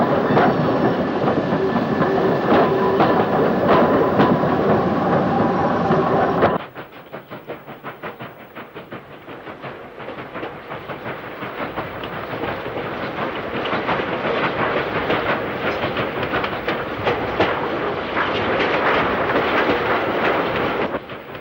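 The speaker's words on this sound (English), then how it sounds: "A Swindon-built Trans-Pennine DMU arrives on a Liverpool to Leeds service." A Swindon-built Trans-Pennine diesel multiple unit pulls in on a Liverpool to Leeds service, its engine and wheels rumbling loudly and steadily with rhythmic clicking over rail joints, the sound dipping briefly before building again close by.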